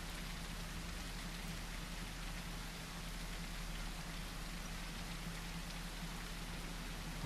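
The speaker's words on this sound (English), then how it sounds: "It's just rain noises and chill time, I guess." Steady rainfall pattering on surfaces in the dinosaur survival game The Isle, a continuous even hiss with a low hum beneath, lasting throughout with no voices.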